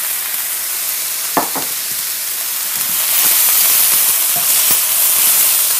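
Vegetables for fajitas sizzle in a hot pan and are stirred almost continuously. Soft scraping strokes sound over a constant frying hiss, with no talking.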